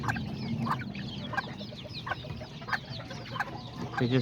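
Hens and roosters, including Azteca and Pinta breeds, cluck in short repeated bursts around a farmyard, moderately close and fairly quiet, with no talk over them.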